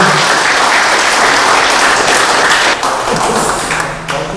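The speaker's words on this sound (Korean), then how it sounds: "뜨거운 박수 한번 부탁드리겠습니다." A room of attendees at a forum meeting of senior members applauds loudly, a dense continuous patter of many hands that eases slightly toward the end while still going.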